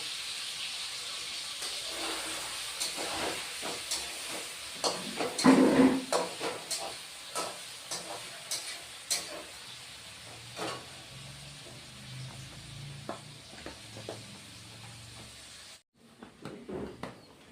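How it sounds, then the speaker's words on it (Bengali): Pumpkin and paneer fry in hot oil, a soft continuous sizzle and hiss with a few sharper stirring clatters around the middle, quiet and close, fading to near silence at the end. "বন্ধুরা কুমড়ো ভাজা হয়ে গেছে এখন নামিয়ে দিচ্ছি"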